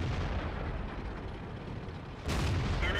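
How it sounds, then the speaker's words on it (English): A Leopard 1 tank cannon in World of Tanks fires at a T-62A; after a low rumbling lull, a single loud, sharp blast hits near the end, followed by lingering mechanical noise. "We try and shoot the T-62A."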